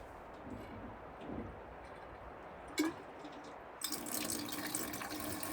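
Water from a newly installed faucet in an off-grid outdoor kitchen starts gushing into the sink and drain, a steady broadband splash that begins partway through after a quiet stretch with a brief knock.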